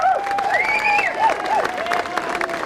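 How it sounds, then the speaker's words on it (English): A crowd applauds and cheers a military band's conductor at a town festival, with clapping mixed with whoops and whistled or shouted cheers rising and falling over a short burst. "would you give him a big round of applause?"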